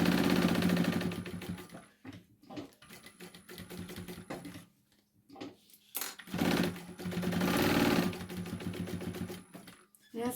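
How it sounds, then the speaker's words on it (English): A sewing machine stitching around a bag seam at a narrow allowance, close and loud with rapid rhythmic needle chatter in several bursts separated by short pauses, no talking. "stitch around or baste with a 1/8 of an inch seam allowance"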